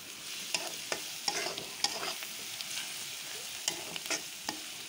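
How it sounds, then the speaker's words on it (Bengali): Sliced onions fry and sizzle in a pan for a snakehead fish dish, with a steady hiss broken by repeated scraping stirs from a spoon. The stirring is close and there is no talk. "এখন পেঁয়াজগুলি ভাজা হইতেছে।"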